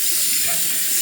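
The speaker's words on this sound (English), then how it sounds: "So let's wet the stone here." Water poured over a Vermont green slate honing stone used for a straight razor, a steady close hiss lasting about a second with no talk.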